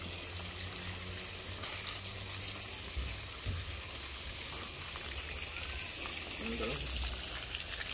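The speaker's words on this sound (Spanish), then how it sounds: "Les vamos a echar agua así para..." Steady gushing water poured over garden plants outdoors, a continuous close splash with a brief thump near the middle and light voices in the background.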